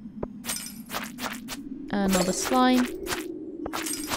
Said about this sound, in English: Smashing these crystals can give you a rare loot.